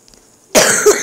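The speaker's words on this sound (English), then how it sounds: "I just coughed" A single sharp cough bursts out after near silence, loud and close, with a second smaller push at the end.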